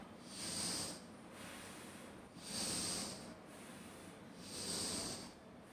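Slow exhalations out through the mouth during a yoga warm-up exercise, three long, soft, breathy hisses evenly spaced with quiet pauses between, close and faint.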